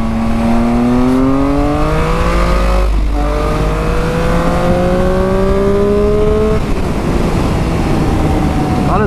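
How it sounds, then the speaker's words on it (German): A black car passes along a road, its engine note climbing and then falling in pitch as it goes by, loud and close over a steady rush of wind and road noise, with no talk. "So, ein schwarzes Auto kommt noch, danach kommt nichts mehr"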